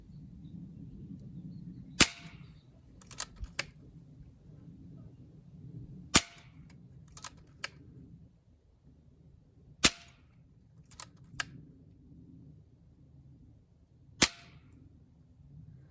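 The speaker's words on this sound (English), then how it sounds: "We're going to shoot 4 shots over it to get a base speed" Four sharp air rifle shots firing Patriot Javelin 23 grain slugs, each a crisp crack followed by a couple of fainter ticks of the slug striking downrange, spaced several seconds apart over a low steady hum.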